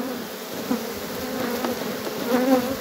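Honey bees swarm around an apiary hive during a honey harvest, a close, continuous droning buzz that swells slightly near the end.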